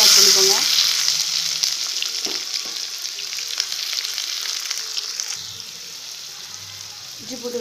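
Onions sizzle in hot oil with fennel seeds and cinnamon for a rajma curry, a loud continuous frying hiss with occasional stirring scrapes, close up and steady throughout.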